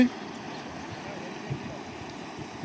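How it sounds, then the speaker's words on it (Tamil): The Kaveri River near Mettur Dam, running full and fast, gives a steady, even rushing hiss with a faint low rumble, heard from the bank at moderate distance. "ஃபுல் ஃபாஸ்ட்டாக வந்துக்கிட்டு இருக்குது தண்ணி"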